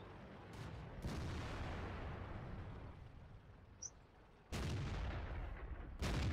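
Tank cannon fire in World of Tanks, with heavy booming shots at about one, four and a half and six seconds over a continuous rumbling battle background. No voices are heard.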